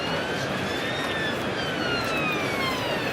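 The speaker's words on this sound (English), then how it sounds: "Wailing siren in the distance." A siren wails faintly in the distance during an England v Australia Test cricket match at Headingley, its pitch slowly rising and falling over a steady wash of crowd or ambient noise.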